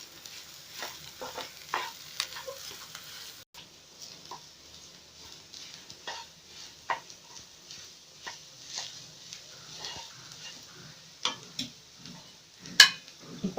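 Potato masala being stirred in a pan over low heat for a potato-stuffed bread roll, giving soft scraping and light sizzling with irregular taps of the spoon against the pan.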